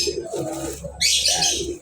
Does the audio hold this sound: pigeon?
yes